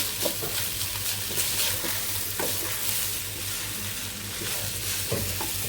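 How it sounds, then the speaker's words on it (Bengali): Rice fries in a pan with ginger-garlic paste and spices, a continuous sizzle under brisk stirring, with periodic scrapes and taps of a spoon against the vessel and no talking. "আদা রসুন বাটা দিয়ে দিচ্ছি সব রকম মশলা দিয়ে চালটা ভেজে নিচ্ছি"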